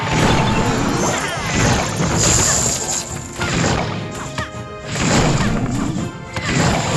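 Repeated mortar shells crash onto goblins in the Clash Royale mobile game, a dense run of loud smashing impacts and thuds that keeps going through the whole stretch with a short dip in the middle.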